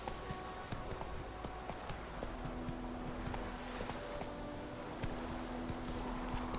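Horse hooves clip-clopping at a steady gallop while riding in The Witcher 3, a continuous rhythmic thudding over game ambience and faint background music, with no talk.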